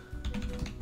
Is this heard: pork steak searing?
no